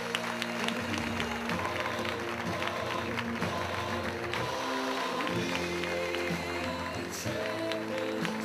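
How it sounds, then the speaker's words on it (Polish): Applause from the audience at the Ekstraklasa 2008/2009 football league gala as the champions receive the trophy: a steady wash of clapping from a large crowd, with tonal music underneath throughout. "I raz jeszcze brawa."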